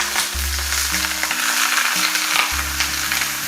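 Loach fillets sear in a hot pan, giving a steady, close broadband sizzle and crackle that runs the whole time, with a low hum underneath.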